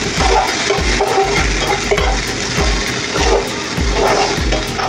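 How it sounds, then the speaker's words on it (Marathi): Tomato, garlic and ginger sautéing in a pan for a village-style chicken curry: steady close sizzle with rhythmic scraping strokes of a spoon stirring, no talk. "आता टमॅटो, लसूण आणि आलं मस्त परतून झाले"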